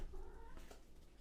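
A cat meows once or twice, faint and somewhat distant, with a short drawn-out wavering cry over low background rumble and no talking.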